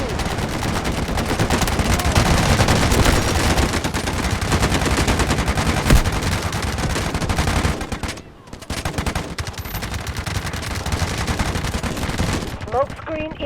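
Sustained automatic gunfire in the mobile shooter Delta Force Mobile, during a Warfare match on the Uluru map while enemy troops attack an objective. Dense rapid bursts and battle noise fill most of the stretch, dip briefly, then resume with scattered shots.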